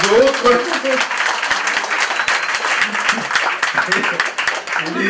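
Members of an assembly at a political speech in Martinique burst into dense, sustained applause, steady and fairly loud, with a few voices faintly mixed in.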